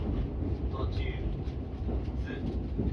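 A steady low rumble of a Kintetsu Hinotori limited express train bound for Osaka Namba rolling along the rails, with faint rhythmic clatter and brief high squeals, continuous throughout.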